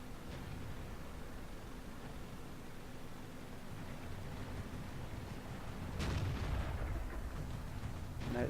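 Tank cannon fire in the video game World of Tanks from a Type T-34-85, a loud blast near the six-second mark rising over a steady low rumble of engine and battlefield noise.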